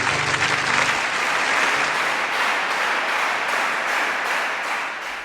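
An audience gives steady, dense applause for a rock guitarist on stage, a full wash of clapping that holds throughout and slowly fades a little toward the end, with faint music or voices under it at the start.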